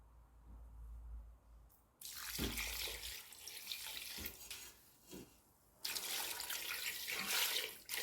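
Coconut milk poured into a rice flour mixture for Jaffna dodal, a soft trickling splash that starts suddenly, pauses briefly, then returns as a fuller stream over faint background hiss.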